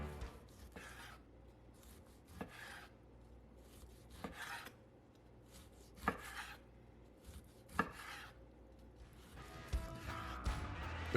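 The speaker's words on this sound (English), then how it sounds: "Here's a moment of silence for steak slicing." Knife sawing through a reverse-seared steak, soft rasping strokes broken by several sharper clicks as the blade meets the board, close but quiet, with no talking.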